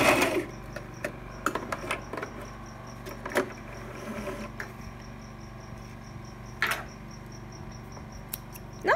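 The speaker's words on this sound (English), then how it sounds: "This needle is working really hard to get through this material." Brother LX 3817 sewing machine stitching through thick denim, a steady close mechanical whir with rhythmic needle clatter, briefly pausing and restarting, with a few sharp clicks and no talk.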